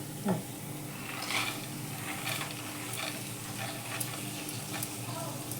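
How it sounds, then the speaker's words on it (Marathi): Peeled moong beans tipped into a hot pan and stirred, giving a steady soft sizzle with light scraping and clinks of the spoon throughout, fairly quiet and close, with no talk. "हे आता हे सोडलेले मूग घालते"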